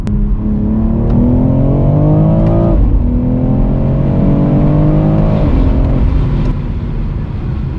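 A 2022 BMW X3M Competition SUV with a 503-horsepower engine and 8-speed automatic gearbox pulls hard, its loud engine note rising steadily through gears with two upshift dips, heard from inside the cabin and without talk.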